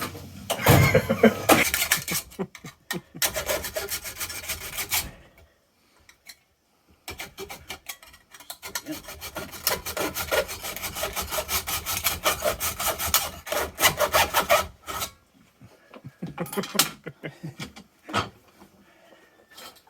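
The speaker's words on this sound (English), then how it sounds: "I'm going to cut it open. What are you going to cut it open with? Huh? Hacksaw." Hacksaw sawing through a heavy object in repeated bursts of rasping back-and-forth strokes, loud and close, with brief pauses between cutting sessions.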